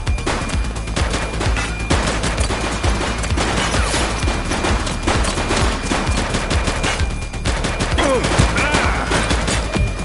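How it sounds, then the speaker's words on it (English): Dense, continuous gunfire fills a police shootout in a video game, with overlapping bursts and rapid shots loud and near throughout. "Shots fired!"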